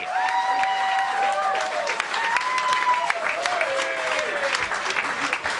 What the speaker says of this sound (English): keep the applause going and welcome to the stage, Jack Barry